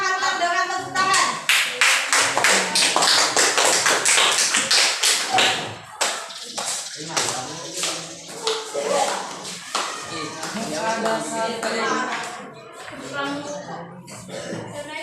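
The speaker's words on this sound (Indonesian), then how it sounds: "Supaya lebih semangat, kita hantam dengan tepuk tangan." Classroom applause from a group of students, loud rhythmic clapping in a patterned beat, close and sustained, with voices chanting along over it.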